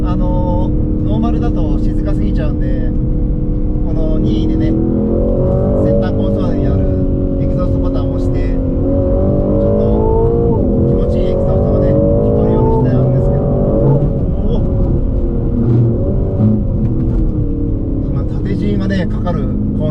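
An Aston Martin Vantage Roadster with an aftermarket exhaust tip drives a winding road. The engine and exhaust drone loudly and rise and fall through gear changes, and someone talks over it throughout.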